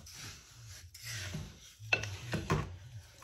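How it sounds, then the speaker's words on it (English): Wooden spoon stirring ingredients together in a mixing bowl, giving soft scraping strokes with a few sharper knocks against the bowl near the end, fairly quiet and close with no talking. "I'll just use a wooden spoon just to make sure they're evenly mixed together."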